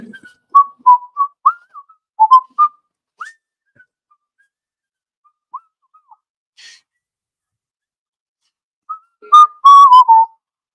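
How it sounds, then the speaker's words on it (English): A person whistles a tune in a quiet workshop, short bright phrases with pauses between them, close and clear, with a faint breath or two between phrases. "because I was whistling"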